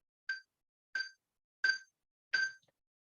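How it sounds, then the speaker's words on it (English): A handbell rung four times with a thumb damp against its casting, each strike giving a short, muted, clipped ring instead of a sustained tone, evenly spaced and heard alone. "you're just going to put it against the casting. And then you're going to ring the bell."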